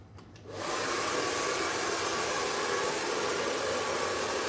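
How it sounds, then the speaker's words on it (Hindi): An Iconic blow dryer with its filter removed, used during a live haircut, switches on after a brief quiet moment and then roars steadily with a loud, even airflow hiss close by, no talking. "आइकॉनिक का है ये ब्लो ड्रायर और ये 80+।"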